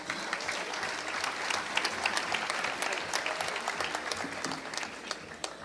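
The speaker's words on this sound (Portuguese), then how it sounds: "Uma salva de palmas aqui para ela." A crowd at an Innovation Unlocked event at Cubo claps steadily for several seconds to welcome a speaker to the stage, a dense, slightly distant roar of hands with no talk over it.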